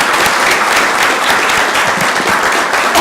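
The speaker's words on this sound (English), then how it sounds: "Let's give them another round of applause." Audience at a Columbus, Georgia city council meeting applauding for a group of Reese Road Elementary School students, a steady, dense wash of clapping from many hands, loud and continuous throughout.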